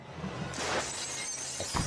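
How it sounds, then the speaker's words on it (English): Glass breaking with a sudden crash, a bright shattering burst followed by a short spray of tinkling shards, heard loud and close with no voices. "they hear a crashing sound like broken glass"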